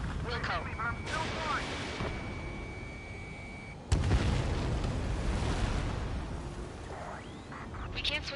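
Explosions in the air-combat video game Ace Combat 7: Skies Unknown rumble and boom continuously, with a heavy blast hitting midway, layered with engine roar and game sound effects.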